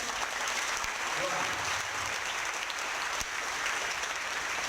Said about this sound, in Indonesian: tepuk tangan buat teman kita yang